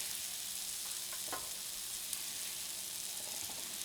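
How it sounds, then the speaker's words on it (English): Food sizzles in a pan while being stirred, a soft, steady frying hiss with a few scraping stir sounds, heard alone at low level. "Give this a stir"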